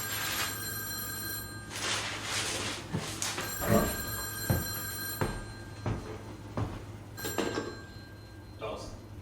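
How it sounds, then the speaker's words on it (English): A telephone rings in a quiet morning room, told as part of an Alcatraz tour narration recalling 1962, the bursts of ringing repeating at a steady pace under a faint background hum. "the phone rang"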